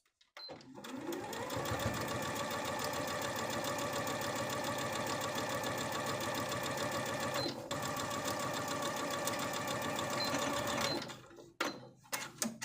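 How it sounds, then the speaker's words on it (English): A sewing machine runs continuously, edge stitching a narrow fabric hem, a steady close mechanical whir and rapid needle chatter for about ten seconds before stopping, followed by a few small handling clicks. "we're going to edge stitch with at most a 1/8 inch seam allowance all the way around"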